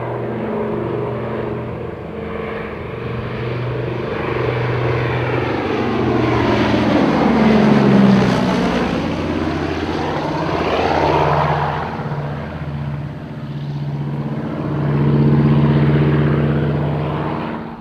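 A WW2-era Catalina flying boat drones low overhead, its propeller engines swelling loud as it passes close with a sweeping pitch shift, then fading and returning.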